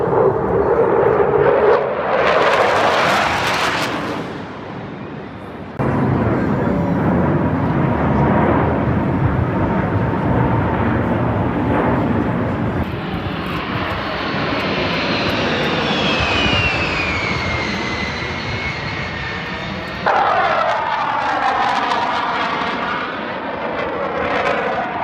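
Military jets, including an F-16 Viper and a Harrier, roar overhead at an air show, a loud sustained engine rumble and whine that swells and shifts in pitch as the aircraft pass.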